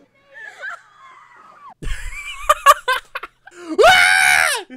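A woman screams loudly as she jumps into water, the scream rising sharply and held for about a second after brief laughter and voices.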